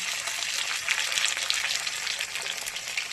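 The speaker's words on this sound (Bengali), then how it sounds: "পেঁয়াজ ভাজা হয়ে গেছে লাল করে, এবার এর মধ্যে টমেটোটা দিয়ে দেবেন" Onions frying in a pan hiss and crackle with a dense, steady sizzle as chopped tomato goes in, close and continuous.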